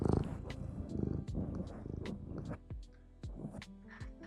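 An orange cat purrs close to the microphone, a rough rhythmic rumble with a few brief higher vocal chirps mixed in, loud at first and easing slightly toward the end.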